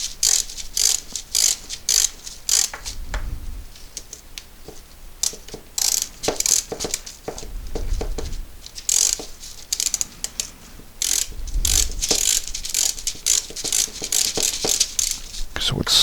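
A ratchet with a socket tightens a hose clamp around a segmented woodturning ring, giving rapid, repeated clicking bursts with short pauses between strokes, close up, while a person speaks at times.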